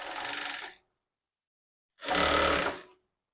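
Two short bursts of a sewing machine stitching a half-inch seam on a lined blouse, each a close, fast mechanical whir under a second long, separated by silence and ending with a small click.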